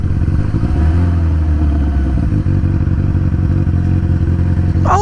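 Motorcycle engine running steadily at close range, a continuous low idle-like drone with faint mechanical clatter throughout and no speech.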